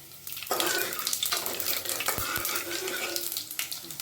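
Radhuni, panch phoron and asafoetida sizzle in hot oil in a pan over low gas while being stirred, a dense, steady hiss with a couple of light scraping knocks.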